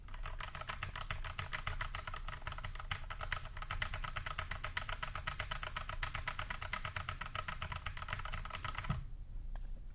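Rapid, steady keystrokes on an iLovBee i61 mechanical keyboard with stock keycaps form a dense, even clatter at close range that stops abruptly near the end.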